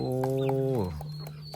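Turkeys and chickens on a farm give a sustained, harmonic-rich call that bends downward, followed by softer clucks and chirps nearby, with no talking.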